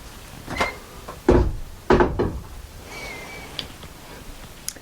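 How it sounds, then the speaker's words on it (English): A shower door that doubles as the bathroom door in a tiny house swings shut, giving a couple of close wooden knocks and clunks, with a faint high squeak afterward and quiet room tone. "here is the shower slash door to the bathroom, which will close like that"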